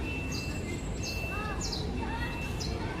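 Birds chirp and whistle in short repeated phrases at Manila Zoo, moderately near, over a steady outdoor background hiss with no talking.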